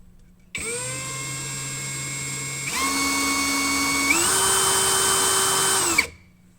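A CAT DX12 18V cordless brushless impact drill spins a bit in its chuck, a steady motor whine that steps up in pitch twice as the speed rises, running alone for about five seconds before cutting off.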